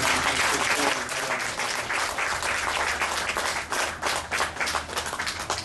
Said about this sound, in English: Please give Lady Allen a round of applause.